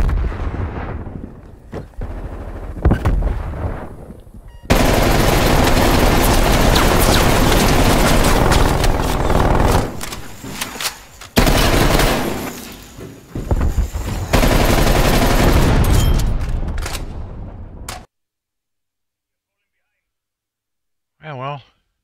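Sentry turret fire in Call of Duty Cold War multiplayer: long, loud, sustained automatic bursts with heavy booms mixed in, broken by brief pauses, then a sudden cut to near silence and a short final blip.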